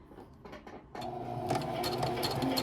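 Domestic sewing machine stitching tote bag fabric, quiet at first, then a steady whirring, rapid mechanical chatter that holds constant as the needle runs close by.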